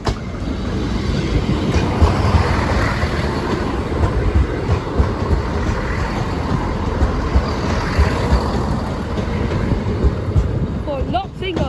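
Train rumbling steadily through Sleaford East level crossing, a loud continuous roar with rail clatter and wind buffeting on the microphone, filling the whole clip.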